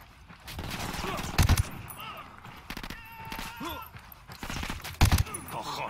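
Bursts of gunfire in the Ghost Recon Wildlands video game, loud broadband volleys at about 1.5 and 5 seconds with quieter scattered shots and game ambience between them.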